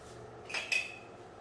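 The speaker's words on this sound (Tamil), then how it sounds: "எல்லா வெண்டைக்காயும் இதே ஷேப்ல கட் பண்ணி எடுத்துக்கலாம்." A kitchen knife slices fresh okra into pieces for a Sri Lankan-style curry, giving two quick, soft cutting taps close by against a quiet background.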